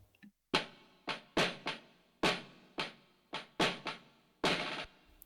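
Marching snare drum overdub recorded on a phone: a run of about nine crisp, dry hits in an uneven rhythm, close and fairly quiet, each with a short papery decay.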